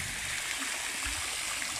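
Water splashing in a city fountain in Limoges, a steady, dense rush of falling water heard up close and alone, with no voices over it.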